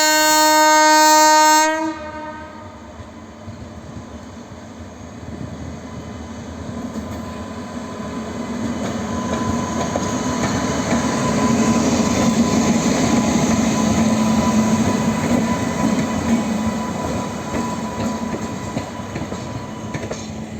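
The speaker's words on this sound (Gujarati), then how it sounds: "વડોદરા શેડનું WAP7 એટલે કે વેબ 7 પેસેન્જર ટ્રેન માટેનું પાવરફુલ લોકોમોટિવ, લીડમાં" A Vadodara-shed WAP7 electric locomotive, decorated for the inaugural Rajkot–Porbandar passenger run, gives a short loud horn blast, then the train rolls past with a swelling rumble and wheel clatter that slowly fades.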